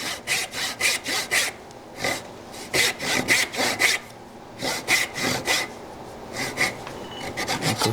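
Hand saw cutting a wooden tenon for a wedged mortise and tenon joint: close, rhythmic rasping strokes in steady back-and-forth bursts, pausing briefly between runs, with no talking.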